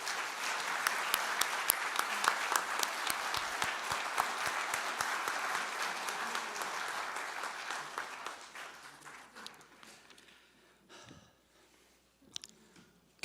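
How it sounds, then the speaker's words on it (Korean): An audience at a Democratic Party assembly claps steadily and densely for a candidate's speech, loud at first, then thinning out and fading to scattered claps near the end. "여러분의 가장 뜨거운 박수와 힘찬 박수로 청해"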